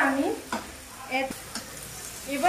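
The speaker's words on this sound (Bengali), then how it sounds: "এবার আমি এটাকে ভালো করে ভেজে নেব যতক্ষণ না পর্যন্ত টমেটো দিয়ে জলটা ছাড়ে" Onion and tomato fry together in a pan for a prawn curry, with a quiet background sizzle broken by several short scraping stir strokes and light clinks of the utensil, up close and with no talk.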